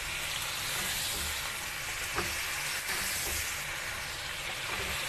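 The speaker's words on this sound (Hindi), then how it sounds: "इसी तरह आपने भूनते जाना है।" Garlic and ginger fry in a pan for a quail karahi, giving a steady, close broadband sizzle and hiss that runs evenly throughout with no talking.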